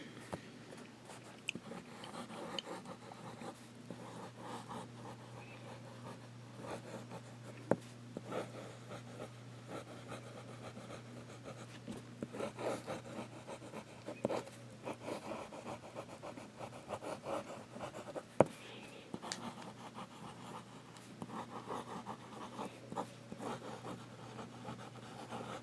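A Visconte Van Gogh fountain pen with a broad nib scratches faint, continuous swirls across paper, close and quiet under a low steady hum with a few small clicks.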